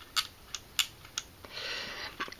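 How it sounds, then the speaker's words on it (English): The jointed limbs of a Wolf Galactabeast toy from the Lost Galaxy Megazord line click stiffly as they are moved. Several sharp, close clicks are spaced apart, and a soft rustle comes after them. "they kind of make that kind of annoying clicking sound"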